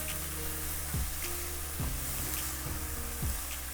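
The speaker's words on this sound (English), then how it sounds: "Nothing like a good sizzle on your onion when you're sauteing it" Onion sautéing in a pan, a soft steady sizzle heard close and faint, with a few low scraping knocks from stirring and no voices.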